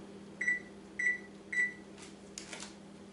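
Three short, evenly spaced electronic beeps from an oven as its temperature is turned down to 350 degrees while a bacon-wrapped meatloaf cooks, followed by faint rustling against a low steady hum.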